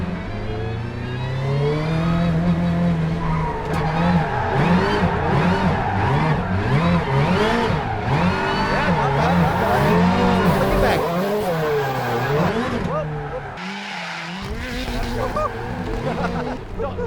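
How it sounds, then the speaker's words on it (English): A driver's 862bhp Subaru rally car sliding across grass, its engine droning and revving loudly and continuously with wavering pitch, while a person talks over it throughout. "Don't mind the grass, it's a rally car."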